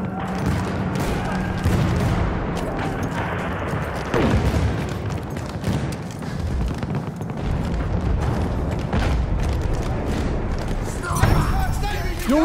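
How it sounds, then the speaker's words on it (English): A grenade blast in a video game, a broad booming burst heard amid continuous gunfire and battle noise, with a voice talking over the chaos. "Oh, grenade!"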